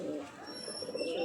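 Soft, low pigeon cooing from a Saharanpuri breed bird held close during a pigeon sale, a continuous murmur with faint high tones above it.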